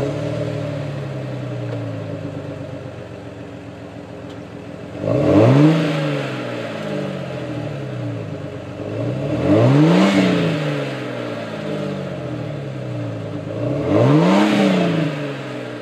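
A 1999-2004 Jeep Grand Cherokee with a 4.7-liter engine and a Flowmaster cat-back exhaust with a Super 50 series muffler, idling deeply then revving three times with rising and falling engine tone, close and loud.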